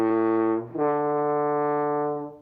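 Low horn playing the second, third and fourth partials of its harmonic series as a smooth, sustained sequence of rising tones, alone and clear.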